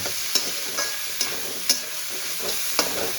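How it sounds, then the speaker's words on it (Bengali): Vegetables for noodles are stir-fried over a high gas flame in a steady loud sizzle, punctuated by sharp spatula scrapes and tosses roughly every half second. "গ্যাসের ফ্লেমটা কমানো যাবে না, হাই ফ্লেমেই আমি শর্টে করে নেব"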